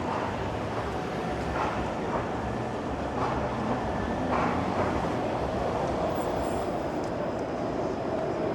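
A crowded streetcar rolls along its tracks in downtown Toronto at night, a steady close rumble with clacks and faint squeals over a low hum, and no talking.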